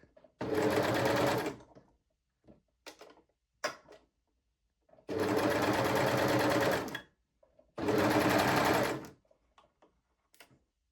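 A sewing machine stitches elastic onto a bikini bottom in three loud, steady whirring runs of about one to two seconds each, separated by quiet pauses with small clicks and handling noises.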